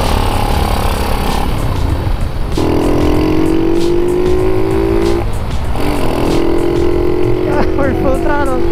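A Madass motorcycle engine runs at full throttle on a quick ride, a loud steady drone rising through gear pulls with brief dips at shifts, up close throughout with continuous road and wind noise.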